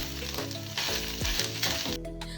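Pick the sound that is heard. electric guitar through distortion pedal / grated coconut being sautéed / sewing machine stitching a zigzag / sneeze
grated coconut being sautéed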